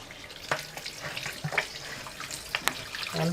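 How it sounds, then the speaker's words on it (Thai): Water from a tap runs steadily while kneaded dough is rinsed under it, with soft splashing and a few brief louder spatters near the sink. "ต้องเปิดน้ำล้าง"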